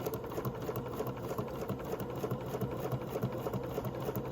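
A sewing machine runs steadily, stitching fabric with a short stitch length for a quilt block, its fast even mechanical chatter heard close and alone at moderate speed.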